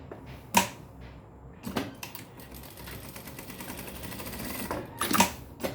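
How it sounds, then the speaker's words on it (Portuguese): A sewing machine stitches a mini backpack in short bursts, with a few sharp mechanical clunks between quieter runs, close and moderate in level. "faço essa costurinha, vai ficar dessa forma"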